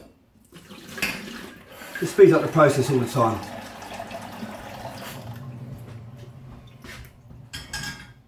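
Kitchen tap running to fill a pan with hot water for melting chocolate while making mille-feuille; water splashes and pours steadily at moderate loudness beneath someone talking.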